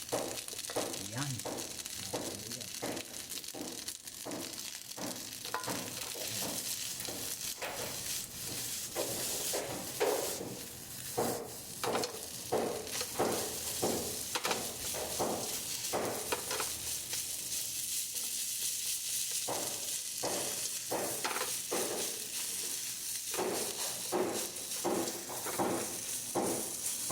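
Omelette rice seasoned with a little oyster sauce being stirred in a frying pan, with a steady sizzle and repeated spatula scrapes throughout while a person talks over it.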